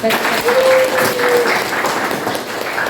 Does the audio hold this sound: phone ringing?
no